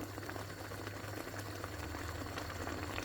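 Semai pudding mixture at a steady rolling boil in a pot, a continuous dense bubbling and low churning that holds evenly throughout, close by with no talking.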